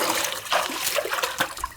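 Seawater poured over freshly caught fish to chill them, beside a Japanese shore where a free-diving fisherman lands rock bream: a steady close splashing trickle of liquid with a few brief louder splashes.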